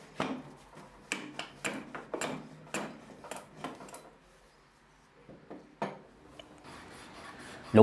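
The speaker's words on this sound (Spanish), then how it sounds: "la cepillamos al ras con la parte trasera del tope" A hand plane takes wood flush on a shooting board in a run of quick rasping strokes, close and moderately loud. A pause follows, then a few more passes.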